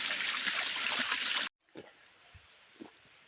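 Irrigation water rushes and splashes steadily into a dry farm field for about a second and a half, then cuts out, leaving a quiet outdoor background with a few faint knocks.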